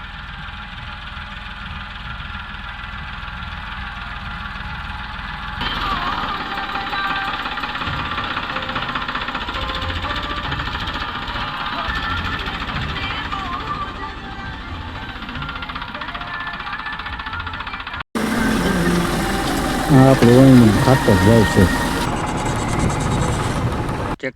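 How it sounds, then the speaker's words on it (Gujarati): A tractor engine chugs steadily while sowing wheat in a field, a continuous mid-pitched rumble with a louder stretch near the end as it draws close, with someone talking over it throughout. "જો ટ્રેક્ટર નજીક આવી ગયો"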